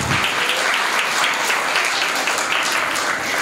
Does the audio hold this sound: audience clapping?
yes